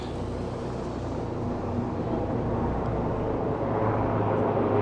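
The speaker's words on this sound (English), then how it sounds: "Orange helicopter." Steady engine drone of an orange helicopter passing overhead in Toronto, a broad continuous rumble that holds level throughout with no voices.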